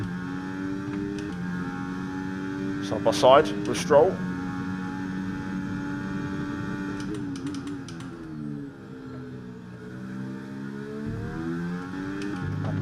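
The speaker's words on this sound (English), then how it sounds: "I feel like the engine sounds different to the last year's car." A Formula 1 car engine drones steadily at high pitch throughout a race in the F1 23 game, its harmonics rising and falling with gear changes, under near-continuous commentary and brief sharper bursts of effects.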